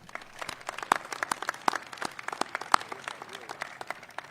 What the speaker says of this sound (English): please join me in a round of applause for Jenny